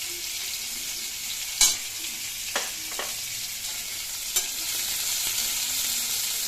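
Whole spices tempering in hot oil, including bay leaf, garam masala, dried red chilli and five-spice (panch phoron), give a soft, continuous sizzle close by, punctuated by a few sharp pops and crackles.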